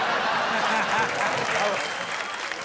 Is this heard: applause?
yes